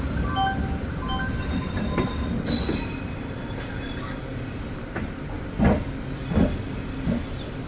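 Palakkad–Ernakulam MEMU train pulling into Ernakulam Junction, a steady rumble of rolling stock with sharp wheel squeals and brief metallic screeches rising at intervals, close and loud.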